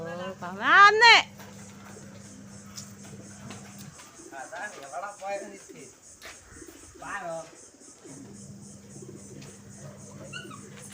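Soft pigeon coos repeat close by, interspersed with people talking and a brief higher squeal near the start.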